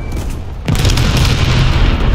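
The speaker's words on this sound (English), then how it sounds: "I hear a bomb." In War Thunder, during a BT-7 tank match, a bomb explodes with a sudden loud boom that turns into a heavy, sustained low rumble and debris roar after a quieter first moment.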